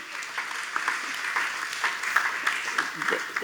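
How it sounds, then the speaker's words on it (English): A conference audience at Malaysia Social Media Week 2016 applauds in a brief, moderately loud patter of claps that fills the room, with faint voices underneath. "Round of applause, thank you"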